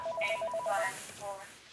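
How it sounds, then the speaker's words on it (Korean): A telephone rings with an incoming call, a short run of rapid electronic warbling tones close by, ending after under two seconds. "프랑크푸르트에 사는 한인 목사는 이상한 전화를 한 통 받게 됩니다"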